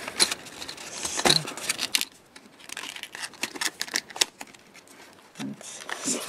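Pencils rattle and clatter out of a desktop drawer box, a run of light wooden knocks and scrapes in bursts with brief pauses, close by, under soft speech.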